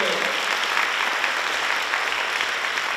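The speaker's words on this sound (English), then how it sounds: "A round of applause." An audience at an elementary school winter concert claps steadily in a dense, even wash of applause that holds from start to finish.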